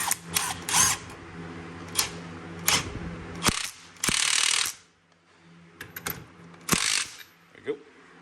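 A ratchet tightens a reused nut onto a Riaction USA coilover over its new bearing on a Honda Fit, giving several close bursts of rapid clicking separated by short pauses and quiet handling noises.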